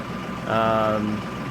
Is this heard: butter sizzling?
no